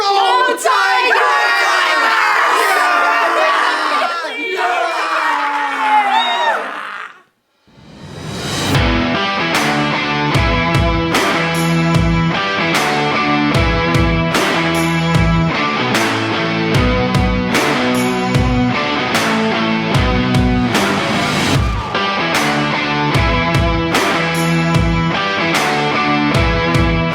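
Massillon students cheering for their football team ahead of the McKinley game: loud, close crowd yelling and whooping for about seven seconds, then a brief silence before loud rhythmic music takes over.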